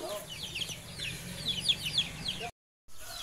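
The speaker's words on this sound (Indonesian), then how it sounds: "entok ayam." Chickens and Muscovy ducks cluck and chatter in a busy farmyard pen, overlapping calls under a low background rumble, cut by a brief silence near the end.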